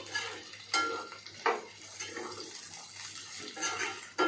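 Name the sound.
mutton being stirred and mixed in a hot pan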